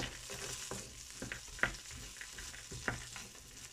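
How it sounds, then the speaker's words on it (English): Cashews in melted butter sizzle in a pot as they are stirred and roasted, with a few sharp spoon clicks against the metal over the steady frying hiss. "we put that in here and the cashews. And we will mix that well and we will roast it."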